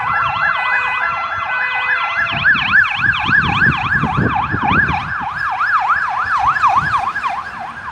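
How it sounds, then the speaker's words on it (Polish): A loud wailing ambulance siren cycles rapidly up and down over rumbling traffic as it passes close by, continuing steadily throughout. "Karetka."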